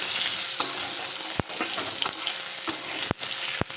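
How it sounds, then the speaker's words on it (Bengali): Potato pieces fry in hot oil in a wok for a Bengali egg and potato curry, giving a steady close sizzle broken by a few sharp clicks and spatters. "এবার এই তেলে আলুটাও ভেজে নিচ্ছি।"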